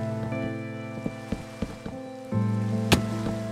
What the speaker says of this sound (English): I even had to build through rain